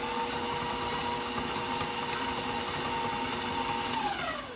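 An electric mixer runs steadily to work a large egg into cookie dough. Its close, loud whir holds an even motor hum for several seconds and the pitch falls at the very end as it slows. No voices are heard.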